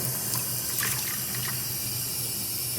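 Tap water runs steadily into a sink while water-soluble glue is rinsed off a 3D printer bed, a constant close hiss and splash with no talking.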